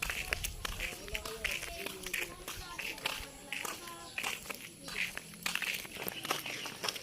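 Footsteps walk steadily along outdoors, a regular crunching rhythm running under children talking nearby.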